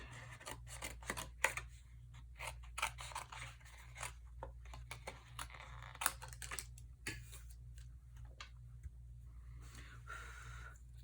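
Scissors snip steadily in short, crisp repeated cuts as paper is fussy cut around a Halloween picture frame, close and fairly quiet, with no talking.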